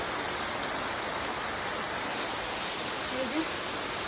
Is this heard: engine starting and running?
no